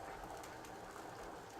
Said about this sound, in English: You can hear it boiling over there.